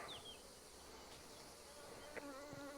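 Honeybees buzz around an open brood frame at a hive in southern France, a dense steady hum with individual bees droning close past the microphone, no talk.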